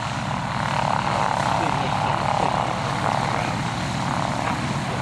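A vintage Cessna 195 propeller plane passes at an air display, a steady loud engine drone that holds for the whole stretch against a broad wash of crowd and field noise.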